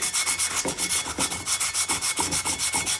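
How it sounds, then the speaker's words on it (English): Light hand sanding with 220-grit sandpaper makes fast, regular back-and-forth rubbing strokes, about a dozen in quick succession, close and fairly loud. "I'm gonna hit this with some sandpaper, just some 220 grit, real light."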